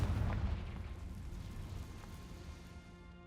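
A Confringo fire spell explodes in the video game Hogwarts Legacy: a loud burst right at the start that rolls into a fading, rumbling decay.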